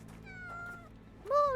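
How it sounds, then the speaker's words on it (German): A cat meows in the Sherlock Holmes: The Awakened video game, two clear drawn-out meows close by, the second louder and rising, over a low game background hum. "Oh, jetzt eine Katze."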